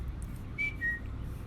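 A person whistles two short, clean notes, the second slightly lower, softly and close, in place of a word against a quiet room background.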